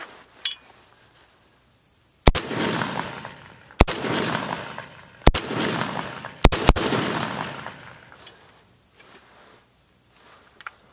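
Short-barreled AKS-74U rifle fired at an outdoor shooting range: four loud, sharp single shots at irregular intervals, each followed by a ringing echo that fades between shots, with no talking.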